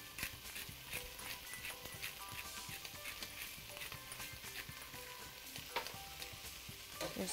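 Vegetables for chicken noodle soup, seasoned with kosher salt and pepper, sizzle steadily in a pot, a constant crackling hiss with scattered louder pops and occasional stirring clatter, close and alone without talk.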